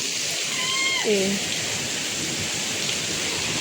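Continuous heavy rain pours down in a dense, steady roar, with a brief sliding animal cry early on.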